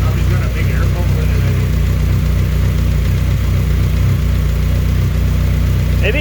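A rebuilt turbocharged Honda Civic SOHC engine runs steadily at idle on its first start, a loud continuous low rumble with people talking over it.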